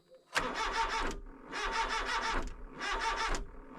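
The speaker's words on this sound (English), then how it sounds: "Car doesn't want to start and it sounds like it's the battery." A car in cold winter weather with a weak battery struggles to start, giving three long labored cranking bursts separated by short pauses, close and loud, never catching.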